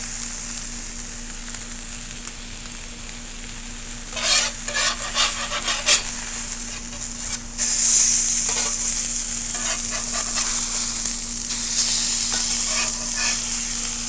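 A crab cake fries on a well-used small griddle, giving a steady close sizzle with brief bursts of louder crackling and spatter as it is moved.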